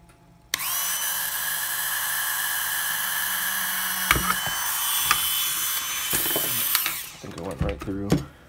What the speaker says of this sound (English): drill right through the center.